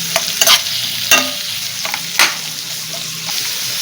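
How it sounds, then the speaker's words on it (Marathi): Sliced onions sautéing in a pan for chicken tikka biryani: a steady close sizzle broken by several sharp scraping clicks of a spatula, spaced irregularly, with no talking. "आता ह्याच्यात 2 उभे चिरलेले कांदे, कांदा चांगला परतून घ्यायचा आहे."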